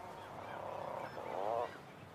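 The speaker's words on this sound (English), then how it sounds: "the once silent cliffs come alive to the calls of 4 million breeding seabirds" Seabirds calling in a breeding colony on Pacific nesting cliffs where tufted and horned puffins and kittiwakes gather; a steady wash of overlapping honking, goose-like cries rises and swells, loudest toward the end, with no talk.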